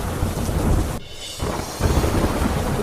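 Heavy rain pours steadily in Mathura, a dense, loud hiss of water on surfaces with low rumbling thunder beneath it. There is a brief dip partway through before the downpour surges back.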